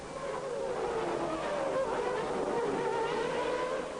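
Formula 1 cars from the 1993 Monaco Grand Prix scream through Casino Square in a close battle, their high-pitched engines whining steadily at moderate distance with no talk.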